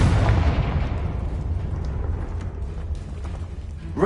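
A Confringo fire spell detonates in the Hogwarts Legacy video game with a heavy booming blast, a deep rumbling explosion that slowly decays into crackling debris and a low roar, loud and with no talk.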